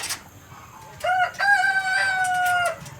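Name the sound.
Red Sussex cross chickens clucking and crowing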